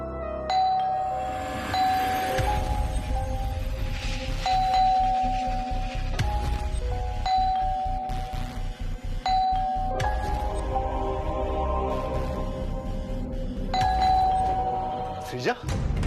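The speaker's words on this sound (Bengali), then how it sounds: "তুমি এরকম ভাবে বেল বাজাচ্ছ কেন?" A doorbell is rung again and again in quick, insistent ding-dong chimes at night, loud and close over a busy indoor background.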